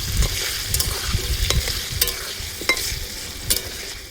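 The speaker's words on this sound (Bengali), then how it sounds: "মাংসটা এখানে ঢেলে নিচ্ছি" Broiler chicken meat sizzles and crackles steadily in a hot pan, with sharp scraping stirs and clinks punctuating the frying, close and loud.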